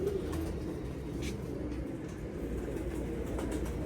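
A prize racing pigeon coos softly a few times, faint and close, over a constant low background hum.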